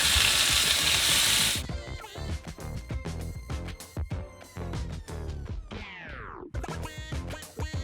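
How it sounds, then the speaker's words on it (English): Shrimp hit hot olive oil in a pan with a loud, bright, hissing sizzle that lasts a moment before dropping away, leaving quieter crackling and other tonal sounds over it. "Once the olive oil is hot, then lay your shrimp on top, next to each other, just like that."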